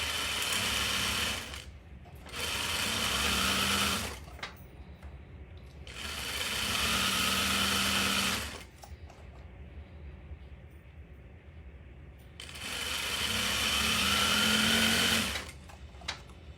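A sewing machine runs in three separate bursts of close, rapid whirring stitching, each lasting about two to three seconds, with quiet pauses between them.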